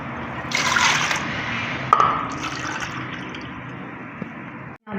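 Water poured from a cup into vinegar for pickle brine, a steady close splashing trickle lasting several seconds, loudest at first, then easing off before a brief stop near the end.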